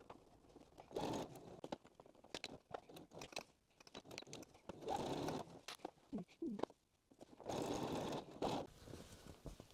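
A sewing machine stitching a fabric book cover pocket, close bursts of rapid mechanical stitching separated by pauses and handling noises, faint overall.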